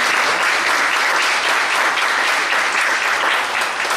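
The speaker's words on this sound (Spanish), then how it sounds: "pido un aplauso para Felipe" An audience applauds a speaker named Felipe at the close of a talk, a dense, steady wash of clapping that stays loud and even throughout with no voices over it.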